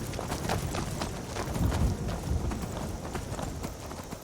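A horse gallops in Skyrim with a continuous rhythmic pounding of hooves, close and steady for a few seconds with no talk over it.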